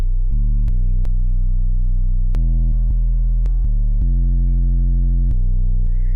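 A synth run through Camel Crusher distortion plays loud, sustained, harmonically rich notes that step between pitches, with a few sharp clicks at note changes and nothing else under it.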